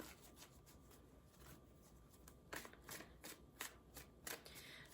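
Tarot cards being shuffled by hand, a soft riffling rub that turns into a run of crisp, quiet card slaps, close and without talk.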